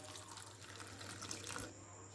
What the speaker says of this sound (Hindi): तो इसमें तकरीबन 1 कप हमने पानी डाल दिया।